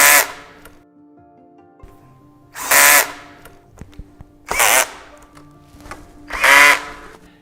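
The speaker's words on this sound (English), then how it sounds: "To avoid having a wobbly desk, make sure that you tighten the screws thoroughly." A power drill drives screws into the lifting columns of a FlexiSpot E7 standing desk, firing in four loud, separate bursts of roughly a second each with quiet pauses between them.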